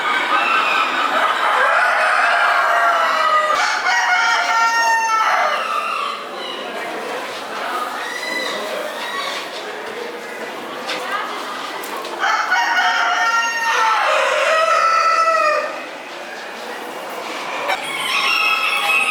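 A large Tiense Vechter rooster, a Belgian fighting-fowl breed, crows loudly and close by several times in succession, with shorter clucking and calling from other fowl between the crows.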